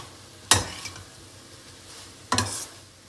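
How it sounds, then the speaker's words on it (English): A soya and vegetable mixture cooks in a pan on the stove with a low, steady sizzle, broken by two sharp spoon scrapes about two seconds apart as it is stirred. "Now we'll cook it till the entire mixture comes together"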